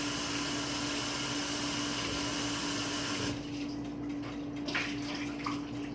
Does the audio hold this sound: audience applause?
no